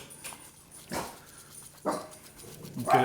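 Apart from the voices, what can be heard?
dog barking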